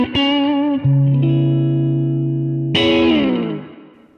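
Clean electric guitar through a Bad Cat Cub IIR amp capture on a Quad Cortex, with a few sustained chords and single notes ringing out in sequence, bright and chimey with a full low end and light reverb, played alone at close range.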